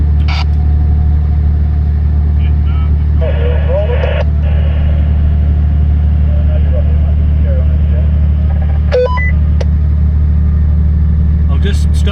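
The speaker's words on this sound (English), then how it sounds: "Winch is cranking nicely." Winch on an off-road truck cranking under heavy load during a steep hillside recovery, a loud, steady low mechanical drone running throughout beside an idling engine, with people talking over it.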